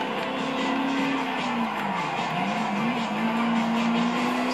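Tires squeal steadily as a race car skids in the game Ford Racing 2, a sustained high screech over a loud engine drone, continuous and close.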